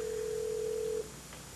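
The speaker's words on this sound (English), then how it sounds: "Will you answer the phone?" A telephone rings with a single steady tone for about a second, then stops and leaves a quiet room with no answer and no voices.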